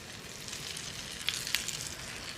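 An egg fries in a pan with grated fontina melting on top, giving a steady, close sizzle with a couple of brief crackling pops.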